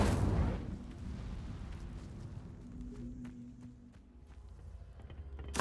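The Incendio fire spell cast in Hogwarts Legacy, a loud burst at the start that settles into a low rumbling fiery roar, with faint game sounds behind it and no voices.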